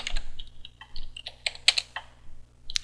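Quick bursts of keystrokes on a computer keyboard as a short reply is typed at a command line, irregular clicky taps at close range, fairly quiet, with no talking.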